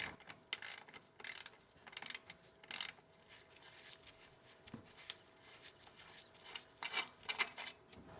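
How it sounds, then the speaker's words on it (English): A ratchet clicking in short bursts while loosening the lower alternator bolt on a 1980-1996 Ford Bronco, several quick rasping runs with pauses between, close and clear in a quiet garage. "Now it's time to remove the alternator, so remove the lower bolt first."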